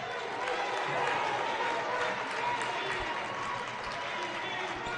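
A season-high basketball crowd at Johnson Arena for Murray State at Morehead State keeps up a steady roar of applause and cheering, with a commentator talking over it throughout.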